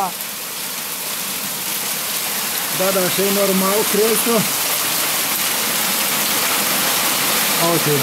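Hail falls in a steady, loud hiss of pelting stones like heavy rain, with people talking over it.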